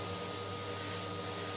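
A brush sweeps debris off the doors of a Carron 5kW wood-burning stove, giving a continuous broadband rubbing hiss that stays steady and fairly quiet throughout.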